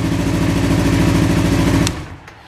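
A Yamaha YZF R3 motorcycle engine idles loud and close after an oil and filter change, a steady throbbing drone that cuts off near the end and fades into quiet with a couple of small clicks.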